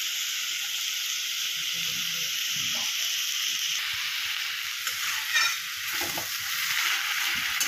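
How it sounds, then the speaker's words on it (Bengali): Banana flower curry with ghee and garam masala is stirred in a pan, a continuous hissing sizzle with scraping stir strokes throughout, no talking. "ঘি গরম মশলাটা দেওয়ার পর ভালো করে নাড়তে হবে।"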